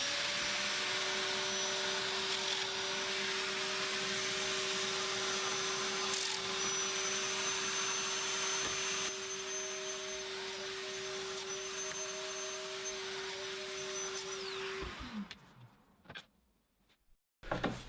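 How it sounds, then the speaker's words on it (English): Festool Domino joiner cutting mortises in upright face frames with a jig, a steady loud motor whine with dust-extraction roar running continuously for about fifteen seconds, then spinning down and stopping with a brief clunk. "I'm putting Domino mortises on the upright face frames"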